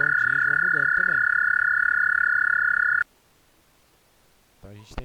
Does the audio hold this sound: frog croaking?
yes